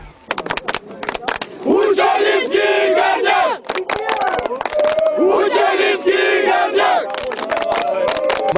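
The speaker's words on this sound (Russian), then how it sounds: "Еще до матча фанаты своими кричалками заглушали шум толпы, рвущейся на стадион" Football fans chanting in unison outside a stadium before a Gornyak Uchaly versus Lokomotiv Moscow match, loud rhythmic massed voices punctuated by sharp claps or drum hits, repeating in waves.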